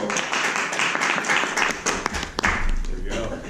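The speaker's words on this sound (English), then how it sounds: "Also, another round of applause for Zack." Audience applause at a Toastmasters club meeting: a moderate round of hand clapping in a room, with some talking mixed in.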